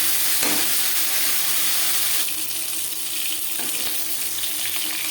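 Fish frying in a pan, giving a continuous close hiss and crackle of oil broken by a couple of brief clatters, with no one speaking.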